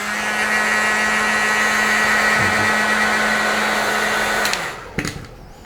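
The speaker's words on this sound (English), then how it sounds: "now I'm going to get the heat gun out again and get that sticker nice and sticky." A heat gun blows steadily and loudly for about four and a half seconds while warming an RC car body decal, a continuous airy roar with a low hum that cuts off abruptly, followed by a brief clack and quieter handling noise.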